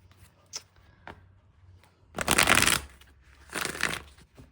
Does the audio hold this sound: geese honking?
no